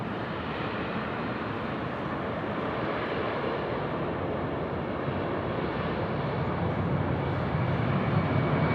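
Airliner LC 808 bound for Melbourne takes off at Sydney Airport close by, a loud sustained jet engine roar rolling down the runway with a steady rumble that swells slightly toward the end.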